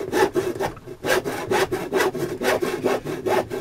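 A handsaw cuts through wood along a marked line in steady rhythmic strokes, about seven close, rasping back-and-forth pushes with short pauses between, heard alone.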